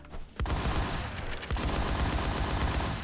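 Gunfire in a video game plays as rapid automatic bursts, loud and close, with a few sharp single cracks at the start before a sustained stream of shots.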